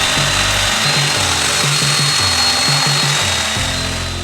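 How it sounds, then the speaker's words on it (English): Domino joiner cutting loose tenon mortises in wood for a washer and dryer stand, a loud, close, continuous motor whine with repeated plunging cuts that shift the pitch in a steady rhythm, with no voices. "I used a domino to create loose tenons to index the hutch to the base"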